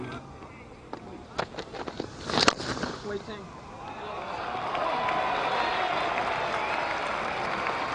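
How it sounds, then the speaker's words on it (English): Cheering and applause from England supporters on the grass bank at the far end of a cricket ground during a New Zealand v England Test, rising after scattered claps into a broad, sustained distant roar. "Huge cheer from the grass bank at the far end of the ground, which is still populated largely by England supporters"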